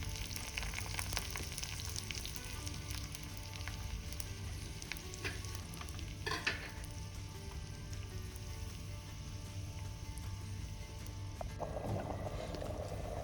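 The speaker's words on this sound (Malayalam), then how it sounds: "അതിനകത്ത് കുറച്ച് കടുകും കൂടെ പൊട്ടിക്കുന്നുണ്ട്." Mustard seeds spluttering in oil with a cut dried red chili, a faint continuous sizzle with scattered small crackles and one brief brighter burst near the middle, heard close with no voices.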